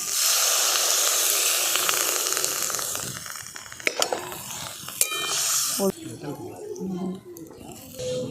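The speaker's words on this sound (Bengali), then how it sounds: "এরপর দিয়ে দিচ্ছি জল" Water is poured into a pan of well-sautéed vegetables for gadal leaf curry, making a loud rushing hiss and sizzle. Sharp metallic clicks and clatter follow, then a voice speaks over the quieter simmer.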